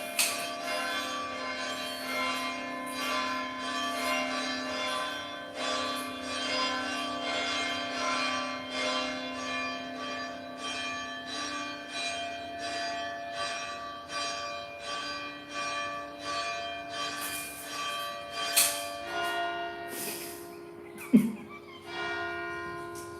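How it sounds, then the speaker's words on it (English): Church bells ring in a rapid, clanging peal, many strikes overlapping in a steady rhythm with a sustained resonant hum, heard alone. "They are the craziest bells I've ever heard anywhere in the world."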